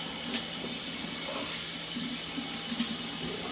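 Water runs from a kitchen faucet into a sink, a steady close splashing hiss with small clinks of dishes surfacing now and then, no talking.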